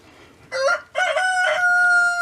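A nearby rooster crows loudly once in a full cock-a-doodle-doo, with a short opening note and a long held final call, heard alone outdoors in a garden.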